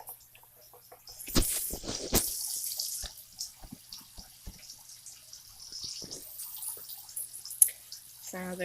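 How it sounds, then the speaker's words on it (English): Water misted from a spray bottle onto damp soil in an isopod enclosure, heard as a few short hissing bursts and soft drips, close and fairly faint, with quiet handling sounds between sprays. "And then you just give it a good misting."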